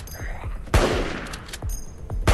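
Gunfire in the survival shooter LifeAfter: a quick string of sharp, close shots with one heavier blast in the middle, crackling over a low game backdrop.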